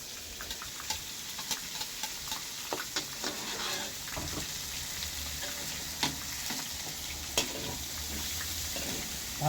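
Meat sizzles steadily in a pan while pakbet is being cooked, with sharp clicks and scrapes of stirring now and then. No speech.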